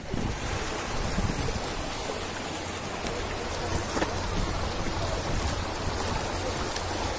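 A fast, strong river current at Ghatsila rushing steadily, a loud broad wash of flowing water that continues without break.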